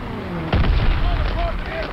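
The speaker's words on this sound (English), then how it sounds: "Daniel, you can help the artillery zero in." Artillery fire in the Call of Duty WWII campaign at the Rhine: a sudden heavy boom lands about halfway through and rolls into a sustained low rumble, with faint whistling tones drifting over the barrage.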